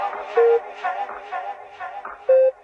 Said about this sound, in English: We're starting with the preset house organ,